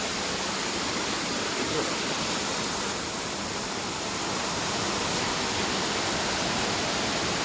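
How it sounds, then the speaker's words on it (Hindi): A waterfall and a mountain river in the Uttarakhand hills pour over rocks in a loud, constant, even rush of white water that fills the whole clip. "यहाँ से दिखाता हूँ नीचे झरने को, पहाड़ी नदियाँ बल खाते हुए"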